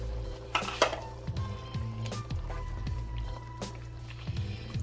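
A spoon stirs spaghetti sauce of tomato paste and water in a pot, giving soft scraping and clinking knocks against the metal, faint and close, with a low kitchen hum beneath.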